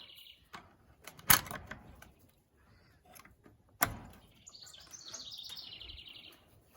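Quails in a garden aviary give small chirps and a longer twittering call near the end. Two sharp knocks, like a door or latch, sound close by between the calls, and the room is otherwise quiet.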